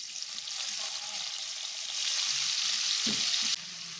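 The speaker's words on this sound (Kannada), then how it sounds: "ಸ್ವಲ್ಪ ಟೊಮೆಟೊನ ಸ್ಮ್ಯಾಶ್ ಆಗುವವರೆಗೂ ನಾವು ಫ್ರೈ ಮಾಡ್ಕೊಳ್ಳೋಣ." Onion and tomato frying in a pan for egg gravy, a steady bright sizzle throughout with a brief clink or stir near the end, no talking.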